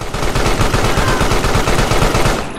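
Steady rapid automatic gunfire in the video game Carrion, loud and close, a continuous rattling stream of shots with no talking.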